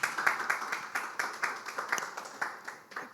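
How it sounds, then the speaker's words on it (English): Scattered, fairly quiet clapping from a small audience at a cultural panel event, with distinct individual claps in an uneven rhythm rather than a full roar. "I think we should clap to that."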